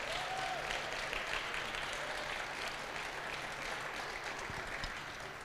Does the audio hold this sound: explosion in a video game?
no